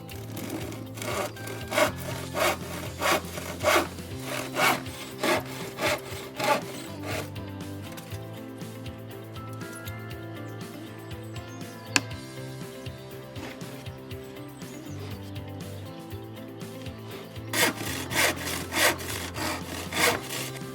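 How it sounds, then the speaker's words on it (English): A handsaw cuts wood pieces for a birdhouse in rhythmic back-and-forth rasping strokes, a quick regular run at the start, slower scraping through the middle, then brisk strokes again near the end. "Once you've measured out all the pieces, cut them with the handsaw."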